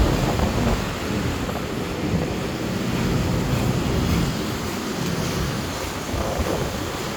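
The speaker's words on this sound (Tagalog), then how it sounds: "Lakas ng hangin." Strong wind roars and buffets the microphone continuously beside EDSA, a loud rushing noise with gusty swells and no talking.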